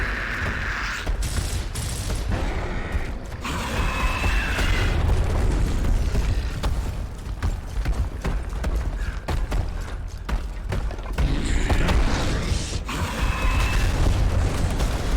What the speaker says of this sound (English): Please tell me you smashed the door.